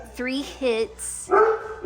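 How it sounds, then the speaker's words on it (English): A pet dog barks and yips in short bursts, close and fairly loud, mixed with someone talking indoors. "I'm sorry about my dog."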